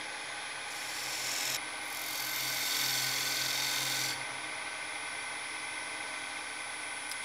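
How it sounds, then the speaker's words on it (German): A small chisel scrapes a dividing line into a wooden bowl spinning on a lathe, a steady rasping cut with the motor's hum beneath, swelling louder for a couple of seconds in the middle before easing back. "Jetzt mache ich hier noch so eine Trennlinie rein."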